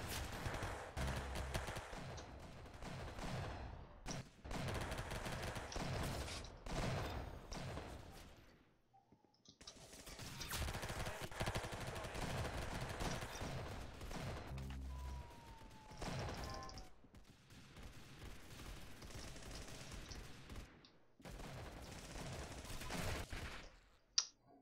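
Dense, continuous gunfire from the Roblox shooter game Arsenal, with rapid bursts and shots packed tightly together, loud and close, broken only by a couple of short pauses.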